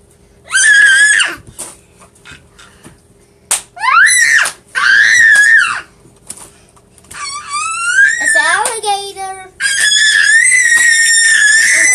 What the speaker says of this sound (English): Nobody wants to hear you screaming.